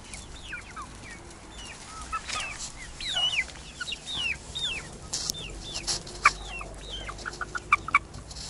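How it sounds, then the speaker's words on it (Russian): A flock of farmyard chickens with a few roosters clucks continuously outdoors at a rural house in southern Russia, with many overlapping short calls, some close and sharp, over a steady background. "Я обратила внимание, петухов немного."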